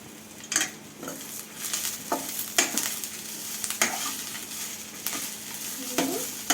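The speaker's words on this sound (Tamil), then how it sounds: "இது எல்லாத்தையும் சேர்த்து நம்ம நல்லா வதக்கிக்கலாம்." Chutney ingredients sizzle and shift in a hot pan, with repeated scraping and stirring clatters against the metal at an irregular pace, fairly close.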